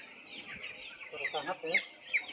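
Chickens cluck in a closed poultry house, a dense flock chorus with several louder nearby clucks over steady ventilation hum.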